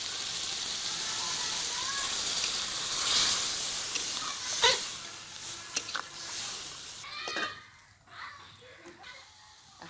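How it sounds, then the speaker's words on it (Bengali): Water is poured into a hot pan of chicken curry with winter melon (ash gourd) to boil, setting off a steady loud sizzle and hiss that settles into softer bubbling and scattered pops near the end. "এখন আমি সেদ্ধর জন্য জল দিয়ে দিচ্ছি।"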